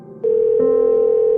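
A telephone call tone starts abruptly and holds as a loud, steady electronic tone until the end, with nothing else heard.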